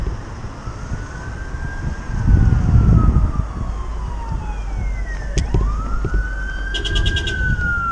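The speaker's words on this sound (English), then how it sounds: "I'm hearing sirens coming from all directions." Emergency vehicle sirens wail in long rising and falling sweeps, responding to a motorcycle-versus-pedestrian crash, with steady street traffic noise underneath and no talking.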